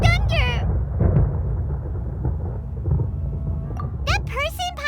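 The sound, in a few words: thunder in the video game Genshin Impact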